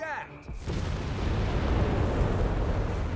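Mortar fire erupts in Company of Heroes 3, a heavy explosive burst followed by a sustained low rumble and debris noise that fills the rest of the moment.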